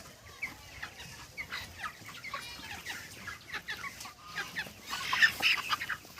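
Inside a poultry farm, many birds cluck and chirp softly in a quiet, scattered chorus. The calls thicken into a louder cluster near the end.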